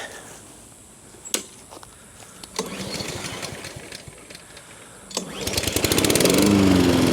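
A Honda HRN216 lawn mower with a surging fault is pulled over with sharp yanks, then catches and runs unevenly, its engine rising and falling before roaring up loud and close at the end.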